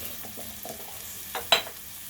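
Sea salt and chili powder being stirred into pieces of local country chicken in a pan, a faint low sizzle with a few soft scrapes and one sharper clink near the end.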